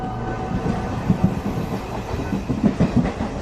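Train running on rails as a sound effect in a Bengali audio story: a steady low rumble with rhythmic clickety-clack wheel beats, close and continuous.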